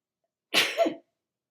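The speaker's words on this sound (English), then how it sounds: "sometimes you cannot avoid the sneeze." A single sharp sneeze, close and fairly loud, bursting out of silence and ending in a short voiced tail.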